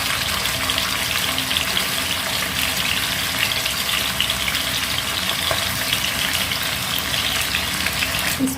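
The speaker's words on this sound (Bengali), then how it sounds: "এবার আমি চিকেনের পিসগুলো ভেজে নেব।" Chicken pieces fry in hot refined oil with a dense, even sizzle that holds steady and close the whole time, with no voices.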